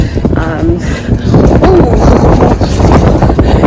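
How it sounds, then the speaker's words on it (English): Loud wind gusts rumble against the microphone throughout, a dense low roar with a person talking faintly underneath. "It is windy"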